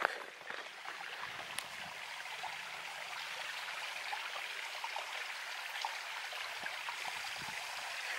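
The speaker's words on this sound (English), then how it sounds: "Hear the babbling brook, everyone?" Babbling brook in the Quantock Hills coombe, a steady soft rush and trickle of running water heard at a moderate distance, continuous and even throughout with no talk.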